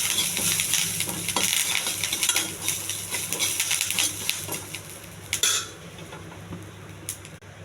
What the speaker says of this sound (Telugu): కరివేపాకు, కొంచెం శనగపప్పు, కొన్ని ఆవాలు ఇవన్నీ కొంచెం దోరగా వేగాలండి.